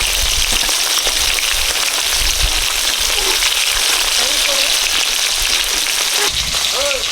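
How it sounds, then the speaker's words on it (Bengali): Eggplant frying in hot oil in a home kitchen, a steady loud crackling sizzle that continues evenly throughout with faint background voices beneath it. "বেগুন হালকা করে ভেজে নিয়েছি তুলে নিচ্ছি"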